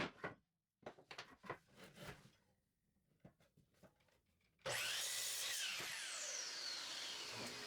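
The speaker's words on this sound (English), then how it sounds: "On the bandsaw I got the inner curve cut" A bandsaw cuts an inner curve in a piece of 2x3 wood. Scattered handling knocks and rubbing come first, then the saw starts abruptly and runs loud and steady with a bright, hissing whine through the end.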